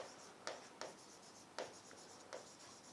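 Pen or marker writing out notes on a biology lesson about innate and acquired immunity, heard as a series of short, separate scratchy strokes spaced irregularly, fairly faint and close, with no talk.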